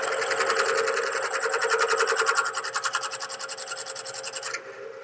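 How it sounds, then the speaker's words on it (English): A Bridgeport milling machine cuts metal, a close, steady high whine with a rapid pulsing chatter that eases slightly before the cut ends abruptly near the end. "Milling machines are awesome."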